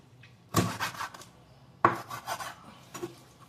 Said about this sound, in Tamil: தலையை கட் பண்ணுறோம்.